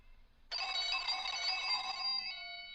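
A telephone rings once, a bright electronic bell tone that starts abruptly after a moment of quiet and sustains for about two seconds before fading, fairly close and alone.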